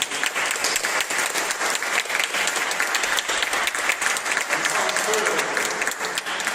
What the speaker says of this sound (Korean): 박수로 경배 찬양 한번 올려드렸으면 좋겠습니다